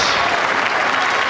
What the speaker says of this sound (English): The crowd have just gone absolutely ballistic.